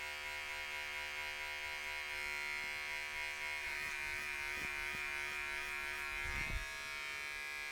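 Electric hair clippers with a #1 guard buzzing steadily up close during a self-haircut, the continuous whine shifting slightly in tone as they work through the hair, with a brief low thump near the end and no talking.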